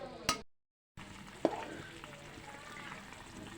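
Pieces of rohu fish go one by one into a boiling tomato curry, with a soft sizzle and bubbling, a brief splash, and a short clatter partway through, close and fairly quiet.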